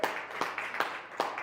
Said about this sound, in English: I want you to clap it up for them